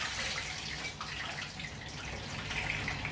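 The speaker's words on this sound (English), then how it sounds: "Now, gently immerse it into the oil in small batches." Yam chips lowered in small batches into hot oil over a medium flame give a steady, dense bubbling and hissing that holds evenly throughout, close and continuous with no talk.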